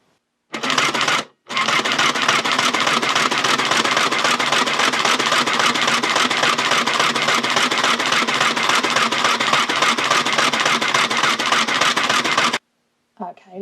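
A 1960s Singer Junior Miss toy sewing machine runs in a fast, steady mechanical chatter for about eleven seconds after a brief initial burst and pause, then stops, with a short clatter at the end.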